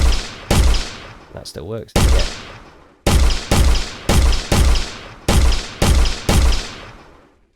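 Remote-control turret firing projectiles in an Unreal Engine game: a string of loud, punchy synthetic blasts in quick succession, each with a short decaying tail. A brief spoken phrase and a warbling electronic tone come early.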